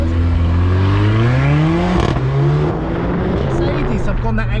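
A 381 bhp Mercedes A45 AMG with a turbocharged four-cylinder, engine revving and rising in pitch through the gears with turbo whoosh, loud and close, with a brief drop between gear changes; people talk over the engine.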